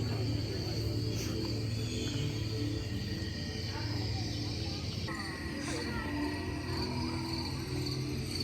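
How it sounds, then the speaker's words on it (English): Steady cricket chirping from a background animal-sound soundtrack at an outdoor forest light event in a botanical garden, a constant high trill with a low hum of ambience beneath it. "They had sounds of animals playing in the background."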